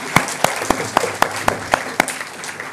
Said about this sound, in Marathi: जोरदार टाळ्या पुन्हा एकदा या सगळ्यांसाठी होऊन जाऊ द्या